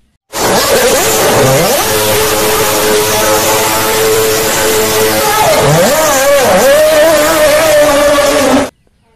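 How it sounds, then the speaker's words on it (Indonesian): A Formula One car engine revs loudly and close, its pitch sweeping up and down through several sharp gear-like climbs in one continuous high-pitched scream that starts and stops abruptly. "Ini adalah mobil Formula One"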